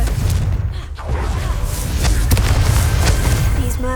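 A Confringo spell explosion in Hogwarts Legacy lands as a loud, dense boom with rumbling debris. The sustained low-heavy blast fills the moment with a few sharper cracks layered on top.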